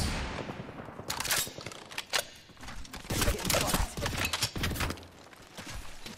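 In Apex Legends, the player's character is struck by gunfire, giving dense, irregular cracks and impacts over busy game noise, loud and close, with no talk.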